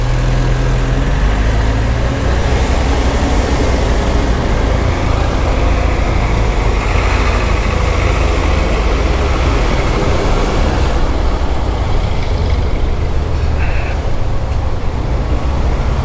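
Heavy traffic in La Trinidad, Benguet idles and crawls, with a continuous low engine rumble and broadband road noise holding steady the whole time and no voices.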